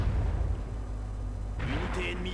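Artillery and explosions rumble in the Company of Heroes strategy game, low booming bursts with a busier cluster of blasts and whistling tones near the end, under faint background voices.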